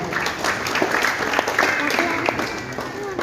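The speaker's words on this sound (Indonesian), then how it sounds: "Tepuk tangan lagi buat Tuhan." Applause for God rings out at a Christmas service in Manokwari, a steady, fairly loud crowd clapping that fills the whole stretch with voices mixed in.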